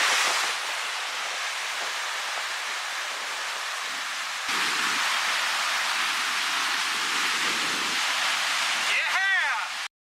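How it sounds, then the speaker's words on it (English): A continuous broadband roar of a New Zealand waterfall fills the scene, steady and loud throughout, ending abruptly. "So we pulled over to photograph this waterfall"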